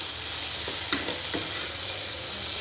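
Capsicum curry with chili powder, coriander powder, turmeric, garam masala and tomato frying in a pan, giving a steady bright sizzle with a few soft stirring scrapes, close and alone.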